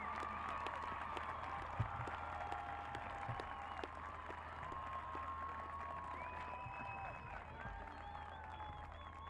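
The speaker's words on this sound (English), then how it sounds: "Let's give all of our graduates a round of applause." A graduation audience applauds steadily through a spring university commencement, a continuous wash of clapping with a few faint cheers mixed in, held at moderate distance for several seconds.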